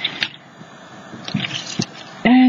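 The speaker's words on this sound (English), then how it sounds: "Yeah, I spilled water everywhere." Water spilling and dripping during a painting session at home, a few soft wet splashes and drips close by, quiet and scattered, ending with a louder brief rush of liquid.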